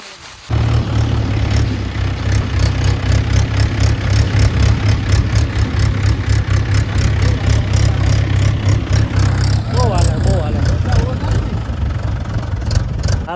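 A tractor engine idles loud and steady up close, a continuous low throb that keeps on through the whole stretch while people talk over it.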